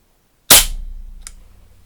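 A single sharp, fairly quiet crack of a powerful air pistol firing a pellet, followed by a brief metallic ring and a faint second click as it decays.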